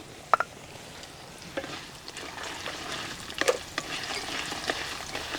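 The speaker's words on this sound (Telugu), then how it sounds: "రెండు చెంచాల పచ్చెనగపప్పు ఇవి కొంచెం వేగిన తర్వాత రెండు చెంచాల మినప్పప్పు కూడా వేసేసుకుందాం" Chana dal and urad dal fry in oil for a pulihora tempering, giving a soft, steady sizzle broken by occasional light clicks of stirring. The sound is quiet and close, with no talk.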